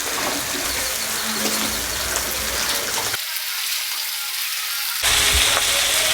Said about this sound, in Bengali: আর গোলমরিচের গুঁড়ো হাফ চামচ দিয়ে দিচ্ছি ভালো করে কষে নিচ্ছি সবজি